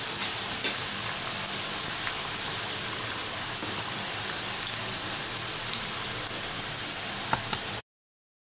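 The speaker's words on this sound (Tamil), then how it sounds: "கொஞ்சம் மீடியம் ஃப்ளேமில் வச்சே ஃப்ரை பண்ணுங்கள், ரொம்ப டீப் ஃப்ரை பண்ண வேண்டாம்" An egg roll made with wheat flour fries in a pan over a medium flame, giving a loud, even, continuous sizzle that stops abruptly just before the end.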